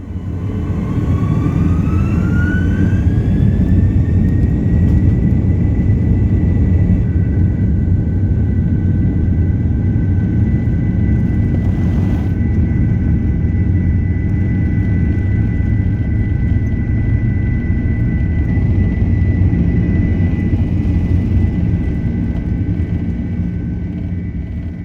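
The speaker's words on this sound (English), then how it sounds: "The engine spooled up, and we took off to the east over Lake Michigan." Aer Lingus Airbus A330-300 jet engines spool up for takeoff from Chicago heading east over Lake Michigan: a loud, steady roar with a whine that climbs in pitch over the first few seconds and then holds, with no voices.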